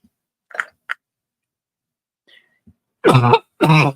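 Two sharp, close coughs ring out after some faint clicks and a throat-clearing sound, loud and harsh against near silence.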